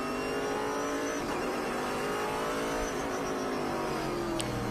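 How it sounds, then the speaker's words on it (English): Onboard a race car under caution behind a Ginetta pace car at Watkins Glen, the engine drones loudly and continuously, rising and falling as the driver accelerates and lifts off. "you'll see him accelerating and decelerating quickly behind the Ginetta pace car"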